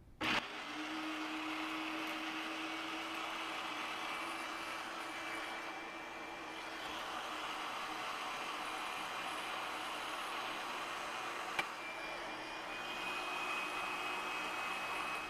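Food processor whirring steadily as it blends chili, coriander with stems, and garlic for Yemeni schug, a continuous motor hum at moderate level with a brief knock near the end.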